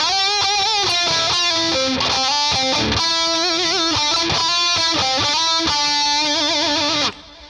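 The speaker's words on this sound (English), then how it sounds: "And then we kick in the Boss MT-2 Metal Zone" Heavily distorted electric guitar chords played through a Boss MT-2 Metal Zone pedal, a dense saturated wall of sound changing chords in a steady strummed pattern before cutting off near the end, loud and close.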